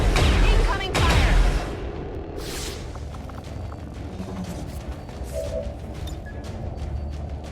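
Combat in the video game XCOM 2: a heavy, loud burst of gunfire and explosions opens, then fades into a lower, steady rumble of distant battle noise.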